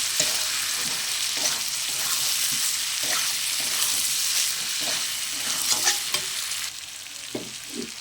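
Prawns fried earlier are stirred back into a jackfruit curry in a pan: a steady broad sizzle with repeated scraping stir strokes at a close, even pace, no voices.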